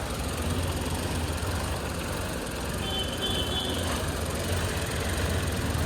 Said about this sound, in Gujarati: એન્જિન કમ્પ્લીટ ચાલુ પણ સ્પીડ વધતી નથી